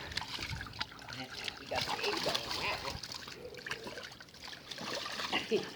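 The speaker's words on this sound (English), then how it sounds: "Oh, it splashed in his face." Children splash and kick in water outdoors on a summer day, with irregular close splashes and trickling. An adult talks over them throughout.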